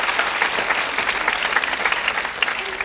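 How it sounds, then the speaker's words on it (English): An audience at a college centenary celebration in Mount Lawley, Perth, breaks into warm, sustained applause, many hands clapping together at close range for a few seconds. "So can we please give them a round of applause?"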